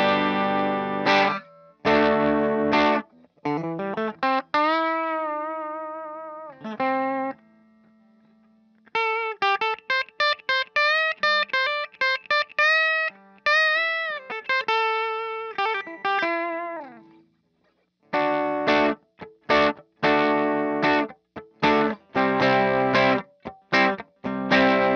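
An electric guitar played through its bridge pickup with distortion rings out in chugging chords, sustained bends and fast repeated notes, with short pauses between phrases, loud and without talk.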